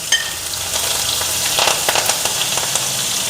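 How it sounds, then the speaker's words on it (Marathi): Asafoetida and green chilli tempering crackling in hot oil for dadpe poha, a dense close sizzle peppered with sharp irregular pops and spits, loudest in the middle and steady throughout. "तडतडली पाहिजे फोडणी"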